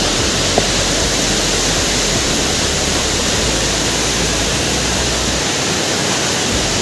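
A village waterfall in Anjaw District spills into the Lohit River, making a loud, unbroken hiss and roar of rushing water with no voices.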